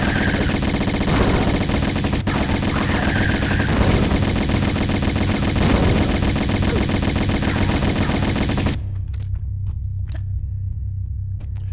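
Rapid Uzi gunfire in Tomb Raider 1 Remastered rattles in a dense, continuous burst with a low rumble beneath for most of the stretch, then cuts off abruptly, leaving a few faint clicks and taps.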